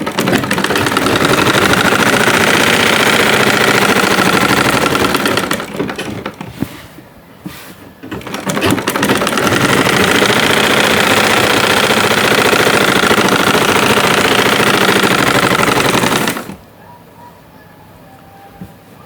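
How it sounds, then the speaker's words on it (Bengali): An electric sewing machine runs loud and close while stitching pants fabric, a rapid continuous mechanical whir for about six seconds, then a brief pause, then a long second run before it stops. "ওই সেম ভাবে উপরে সাব সেলাইটা এইভাবে দিয়ে নেব।"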